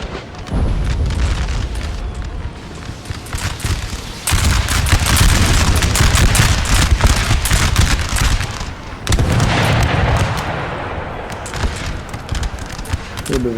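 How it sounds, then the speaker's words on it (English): Rockets misfire amid a Napoleon: Total War battle, with loud booming bursts and crackling gunfire in dense, sustained waves that pause briefly before resuming. "A little bit of rocket misfire there."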